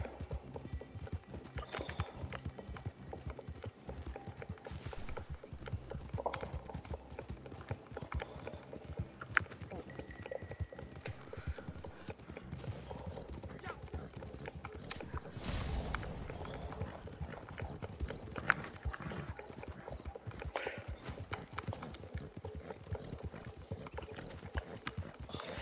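Horse hooves clip-clopping at a steady riding pace in Red Dead, a continuous rhythmic trot under someone talking, with a brief whinny.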